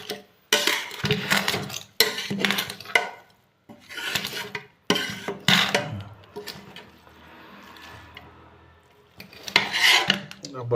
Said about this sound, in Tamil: சாதம் கிளறி பார்ப்போம்.